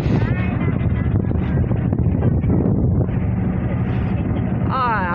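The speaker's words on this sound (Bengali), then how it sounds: "দেখেন মানে নৌকাতে কি পরিমাণ ঢেউ লাগতেছে আইসা" Storm waves slap against a boat on an open haor wetland during a sudden Kalbaishakhi squall, with heavy wind roaring into the microphone as a loud, constant broadband rush that continues throughout.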